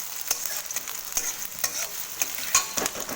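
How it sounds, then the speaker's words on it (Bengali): Chopped onions fry in hot oil while being stirred, a close crackling sizzle broken by repeated scraping strokes of a spoon in the pan at an irregular pace. "পেঁয়াজটা বেশি ভাজবো না, হালকা বাদামি কালার হবে"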